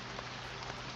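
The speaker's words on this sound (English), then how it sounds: "I thought it would just make a lot of sense for me to actually make some rain ASMR in the background" Steady rain pattering on a surface as a background ambience, a dense even hiss filling the clip at low level with no speech.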